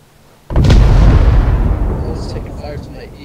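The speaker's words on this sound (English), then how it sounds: "Chief, go ahead and blow the radar." A demolition charge blows up a radar in a military video game, a sudden loud, close explosion with a deep booming rumble that slowly fades, and voices over the radio near the end.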